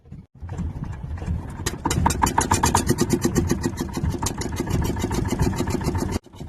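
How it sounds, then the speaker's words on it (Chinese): A fishing boat's engine cranks briefly, catches and settles into a loud, rapid, steady idle close by, then cuts out abruptly near the end. "准备把机器启动一下吧"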